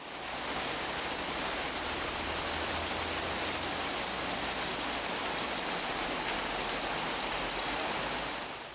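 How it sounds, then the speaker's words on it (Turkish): Heavy rain pours down steadily during a flood in Zonguldak, a dense, constant roar of rainfall with no breaks and no voices. "Kenti esir alan yağmur sel felaketini de beraberinde getirdi."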